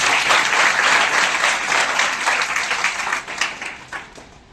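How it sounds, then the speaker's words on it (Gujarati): A school event audience applauds a girl's speech, loud dense clapping from a crowd that holds strong and then gradually thins out, with no one talking over it. "પહેલા તો એના માટે ખૂબ તાળીઓ"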